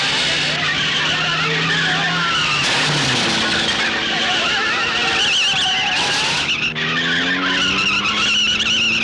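Car skidding to a stop on a road, a loud, sustained tire squeal with engine roar sweeping in pitch, close up, with voices briefly overlapping.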